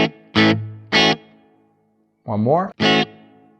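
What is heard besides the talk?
Fender Mustang Micro guitar amp hall reverb effect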